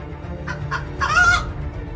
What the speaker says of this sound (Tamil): சிக்கன்ஸ்.